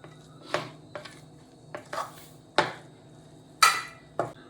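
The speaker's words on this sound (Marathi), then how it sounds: "आता हे सगळं मिक्स करून घ्यायचं" A spoon scrapes and clinks against a bowl while potato cutlet mixture is worked together with coriander-cumin powder and salt, about six separate knocks spaced irregularly over a quiet background.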